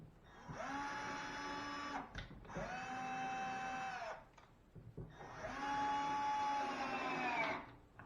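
A cordless screw gun set to low torque drives screws into drywall, whining in three sustained close bursts of a couple of seconds each with short pauses between them, loud and steady, with no talk.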